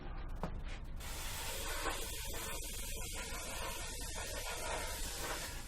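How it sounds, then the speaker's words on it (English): A new airbrush sprays paint onto pebble-shaped models, giving a soft, steady hiss of air that runs continuously and quietly throughout, with a short burst at the start and no talking. "So I better get on with the airbrushing."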